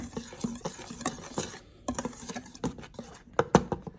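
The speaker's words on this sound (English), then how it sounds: "I'm going to mix these dry ones, make for sure they kind of get mixed first." Dry ingredients are stirred in a bowl for a yucca flower yeast dish, giving soft scraping swishes and light taps of a utensil against the bowl in an uneven rhythm, close and fairly quiet, with no talk.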